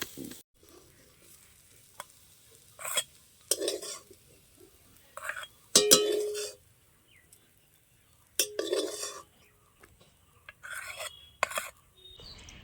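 Potato filling for tomato chops gets stirred in a pan, with a series of short scraping and clinking strokes separated by quiet gaps. A faint sizzle sits underneath.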